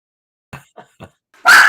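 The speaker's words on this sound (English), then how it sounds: "my dogs are going crazy" Pet dogs indoors let out three short, clipped barks in quick succession, then a loud, rough, sustained bark or growl close by.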